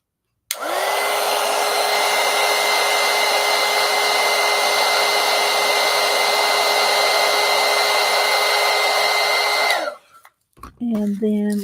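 A hair dryer drying paint on a mixed media poster book runs loud and steady for about nine seconds, then cuts off, and a brief voice follows.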